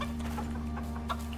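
Chickens clucking in the survival video game Icarus, soft, busy fowl chatter over a steady low hum of game ambience, with a few brief louder clucks near the end.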